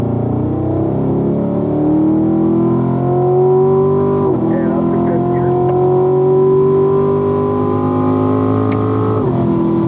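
A car pulls hard through the gears on a race track during a driving school session, the engine note climbing steadily with a brief dip at each upshift, loud and close under an instructor's voice.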